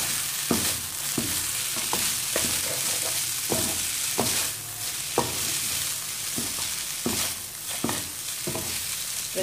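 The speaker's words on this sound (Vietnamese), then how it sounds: "Vả đều lên cho cái phần hành lá chín nữa" Glass noodles with bean sprouts and scallions sizzle and crackle in a hot pan while being stir-fried, with repeated scraping and tossing strokes at an irregular rhythm, close and fairly loud, with no voices.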